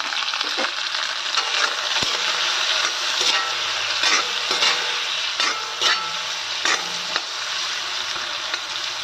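Bitter gourd being stir-fried with turmeric in a pan, with a steady sizzle and repeated scraping stirs of the spatula at close range, no talking.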